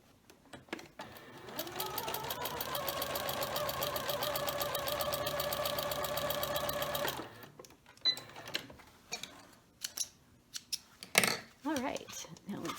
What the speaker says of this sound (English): I'm going to stitch 1/4 of an inch.